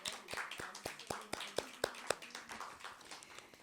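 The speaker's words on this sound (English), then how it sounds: "Let's give her a nice round of applause" Small audience at a poetry open-mic night claps in a quiet, fairly regular patter of about a dozen distinct claps, soft and somewhat distant, that fades out toward the end.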